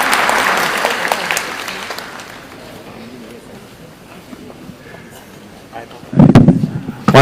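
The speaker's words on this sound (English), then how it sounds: "One more round of applause for His Excellency" Applause at the close of a national wage bill conference attended by President Ruto, loud at first and thinning to a lower crowd murmur, then a burst of louder clapping near the end.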